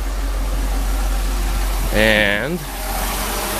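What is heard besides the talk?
Mercedes car engine idling after fuel distributor repair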